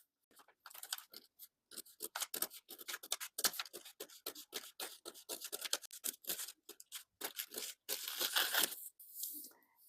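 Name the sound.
scissors cutting paper skirt pattern along waistline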